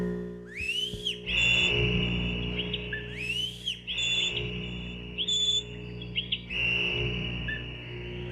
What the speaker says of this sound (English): Just two more layerings of whistles.